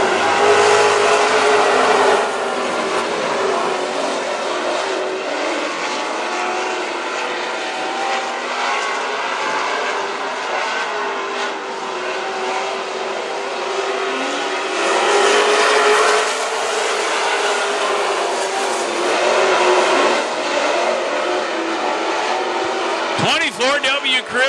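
WISSOTA super stock race cars roar around Princeton Speedway, a loud, continuous pack of engines swelling and fading as they pass, with an announcer talking over the racing and a sharp noise near the end.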